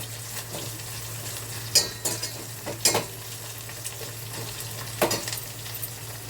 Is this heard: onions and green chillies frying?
yes